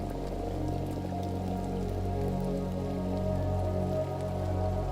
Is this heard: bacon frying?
no